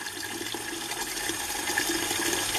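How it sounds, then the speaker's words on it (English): Water from a garden hose is added to a self-watering wicking barrel in an auto top-up system, giving a steady, close splashing and trickling flow that builds slightly louder over a few seconds, with no talking. "So just add a bit of water into here. And as you can see, it will slowly start to come through into this barrel here."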